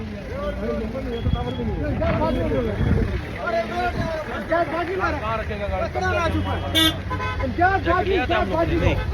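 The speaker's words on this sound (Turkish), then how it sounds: "Trafik çoxdur" Heavy road traffic in India with engines and several short car horn toots rising over a busy street, close and continuous, while people talk nearby throughout.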